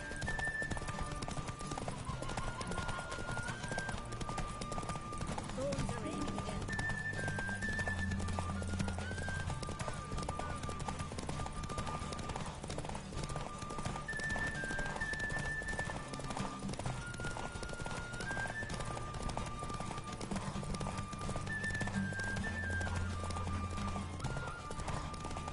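In The Witcher 3, a horse's hooves gallop in a steady rapid clip-clop through the whole stretch, with occasional whinnies, game music and some talk layered over it.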